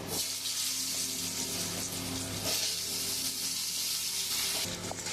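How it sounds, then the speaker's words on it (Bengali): Potatoes sizzle steadily as they fry in hot oil, a continuous crackling hiss with occasional soft clinks, fairly close. "আমি ওই তেলের মধ্যেই আলুগুলো ভেজে নেব।"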